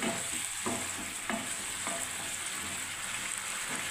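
Onion and capsicum frying in a pan with a little water, a continuous close sizzle broken by regular spoon-stirring scrapes about every half second, no talk.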